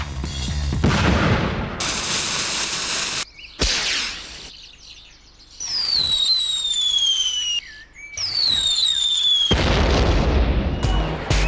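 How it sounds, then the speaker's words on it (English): Fireworks going off at close range in a rapid series of loud bangs and crackles, with whistling rockets climbing between bursts and short gaps of quiet. "they started making fireworks"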